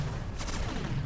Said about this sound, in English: I believe it used to take a little bit of time to fire the cannon